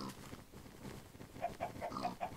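Pigs in the Minecraft video game give a quick series of short, quiet oinks in the second half, over soft background game ambience.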